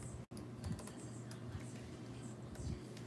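Quick, light keystrokes patter on a computer keyboard in an uneven run, close and fairly soft against a low background hum, with a brief dropout near the start.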